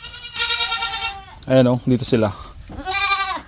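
Three young goats kept in a pig pen bleat loudly and close by, long wavering cries at the start and end with a person speaking between them.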